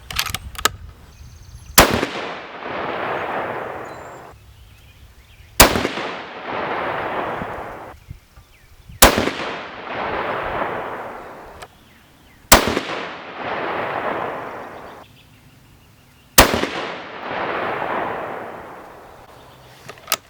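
Six sharp rifle reports from a 6.5 Creedmoor firing Hornady 123 gr ELD-M loads over IMR4350 powder, each loud crack followed by a long rolling echo, spaced a few seconds apart outdoors.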